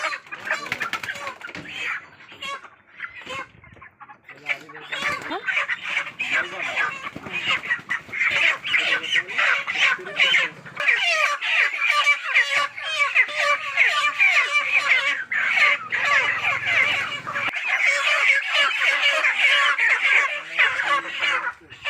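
A large flock of poultry chickens on a poultry farm clucks and chirps almost nonstop, many birds calling over one another in a busy, close chorus that grows louder partway through.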